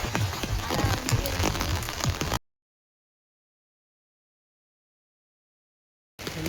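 Rain hisses and patters densely on surfaces at night in Kodaikanal. It is a steady close wash of drops that cuts out to silence partway through, then returns briefly at the end.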